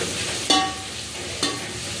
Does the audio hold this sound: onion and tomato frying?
yes